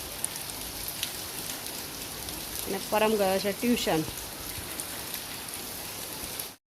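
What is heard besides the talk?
rain falling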